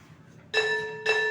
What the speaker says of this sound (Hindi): उधर वो घंटी लगाने के लिए भाग रहे हैं